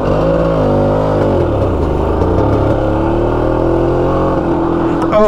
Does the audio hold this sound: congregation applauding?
no